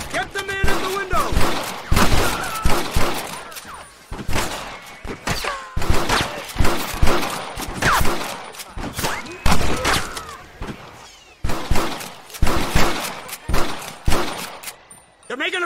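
Heavy shootout gunfire in the Western video game Red Dead Redemption, with dense bursts of rifle and pistol shots cracking in rapid volleys across the whole stretch, mixed with shouting voices.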